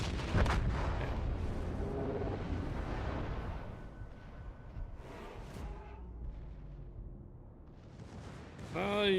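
Naval battle gunfire in a World War-era battleship video game, with heavy booming salvos and rumbling blasts over a steady low drone, while voices talk throughout.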